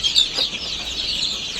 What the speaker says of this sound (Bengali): দেশি মুরগির বাচ্চা পিওর।